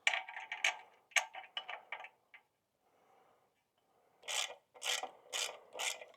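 Clutch bolts on a Suzuki that sat unused for over ten years get tightened with a hand ratchet, giving close, short bursts of rapid metallic clicking with a pause between groups of turns.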